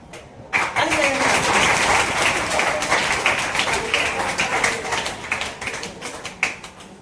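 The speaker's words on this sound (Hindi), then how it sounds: "ताली बजाइए एक बार राहिल हुसैन के नाम पे।" Audience applause for a student at a class gathering: a dense, steady wash of many hands clapping starts abruptly and continues loudly, easing slightly toward the end.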